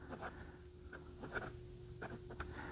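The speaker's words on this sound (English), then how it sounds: "This one sometimes on certain papers just hits just the right resonance, and it starts to make noise." Jinhao 35 fountain pen with a medium nib writing on paper, giving faint, close scratchy strokes in short irregular bursts against a quiet background.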